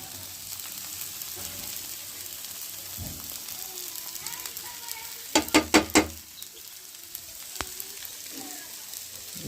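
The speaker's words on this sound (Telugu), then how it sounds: "బాగా రోస్ట్ చేయాలి" Tomato and egg rava dosa roasting in oil on a hot pan, a steady close sizzle throughout with a short burst of three or four sharp scraping clatters midway.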